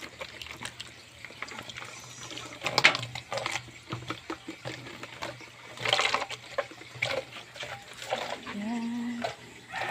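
Water runs from a freshly opened water tank, a steady watery rush and trickle heard throughout at moderate level, with voices talking over it and a brief tonal whine near the end.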